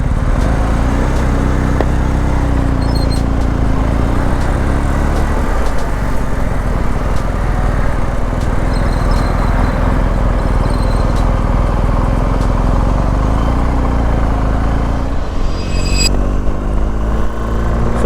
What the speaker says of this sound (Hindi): एक्रोपोविच एग्जॉस्ट लगा रखा है जिसकी आवाज़ ज़्यादा आती है, रेसिंग एग्जॉस्ट है।